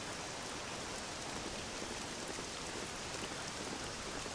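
Steady rain falls in a video game scene, a continuous, even, fairly quiet wash of drops on surfaces with no breaks or other sounds.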